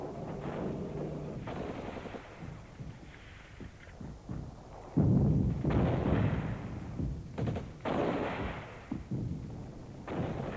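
Artillery and machine gun fire from the 1967 Six-Day War, with heavy booming blasts and rattling bursts alongside wind-like rumble, loud and rough across the whole stretch with no voices.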